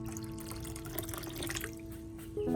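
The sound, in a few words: clean water being poured into plant solution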